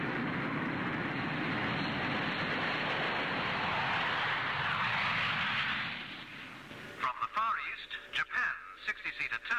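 A Japanese YS-11A 60-seat turboprop airliner at the Farnborough air show, flying past with a loud, steady broadband engine roar that swells and then fades out after several seconds, leaving speech afterwards.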